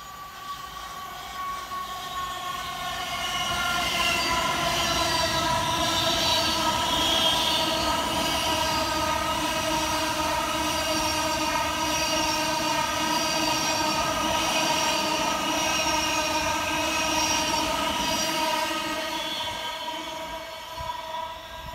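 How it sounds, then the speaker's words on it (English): A train rolls through South Croydon station without stopping, its droning engine hum swelling and then fading, with squealing wheels and a steady rush of rail noise. "The train now approaching platform 2 does not stop here."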